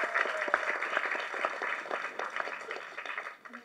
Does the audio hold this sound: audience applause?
yes